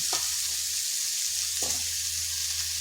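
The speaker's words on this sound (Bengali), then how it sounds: "এরপর দিয়ে দিচ্ছি বেগুনগুলো" Eggplant pieces frying in a pan for a cauliflower-stalk chorchori, a steady close sizzle with a few soft thuds as the pieces settle and shift.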